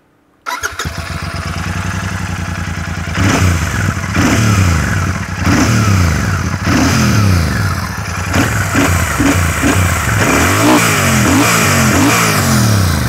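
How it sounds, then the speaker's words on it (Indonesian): A Royal Enfield Super Meteor 650 motorcycle engine starts after a moment of silence, settles into a loud close idle, then is blipped through a series of sharp throttle revs that rise and fall repeatedly, with no talking. "tapi kita dengerin dulu suara mesinnya nih."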